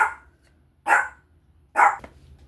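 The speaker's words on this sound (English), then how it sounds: "the dog barks at every little thing" A dog barks at a doorbell in a home, giving three loud, sharp, evenly spaced barks, close by and heard alone.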